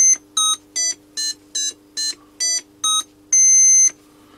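An Atari Punk synth console kit plays a run of short, bright electronic beeps in a steady rhythm, with one longer sustained tone at the end, heard alone and close.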